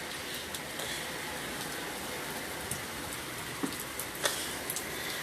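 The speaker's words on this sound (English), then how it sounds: "It's raining very hard." Heavy rain from Hurricane Delta falls at night in October, a steady dense hiss with scattered louder drops and splashes on nearby surfaces, continuous throughout with no voices.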